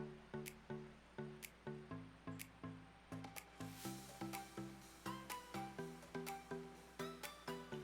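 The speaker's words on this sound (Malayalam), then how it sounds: "അടുത്ത റൗണ്ട് നമ്മൾ ഒഴിച്ചു കൊടുക്കുകയാണ്." Jackfruit batter poured into a hot unniappam pan, heard as a steady rhythmic series of close, wet sizzling squishes and drips, repeating roughly every third of a second.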